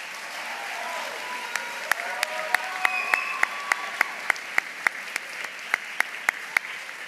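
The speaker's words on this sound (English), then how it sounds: "So give yourselves a round of applause." An audience at a school's State of the School event applauds, a steady wash of clapping with sharp individual claps standing out at a regular, spaced beat throughout.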